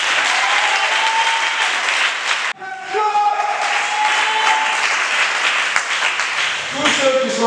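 A church congregation bursts into loud, sustained applause to acclaim Jesus, a dense wash of clapping that dips briefly and swells again, with voices mixed in beneath it.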